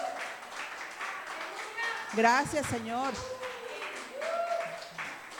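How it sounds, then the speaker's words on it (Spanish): Congregation applause fills a church service, a broad wash of clapping that swells and fades while voices speak and call out over it. "Dale un fuerte aplauso a nuestro Señor Jesucristo"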